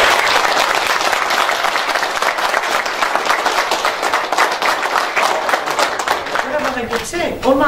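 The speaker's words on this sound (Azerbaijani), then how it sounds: "Alqışlar!" Dense, loud applause from a large crowd at a parliamentary candidate's campaign meeting with war veterans, continuous and energetic for several seconds before a voice starts calling out near the end.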